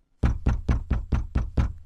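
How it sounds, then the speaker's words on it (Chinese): Seven loud, evenly spaced knocks on a door in a radio suspense drama, close and insistent, with no talking. "停顿了一下，他又敲了门。"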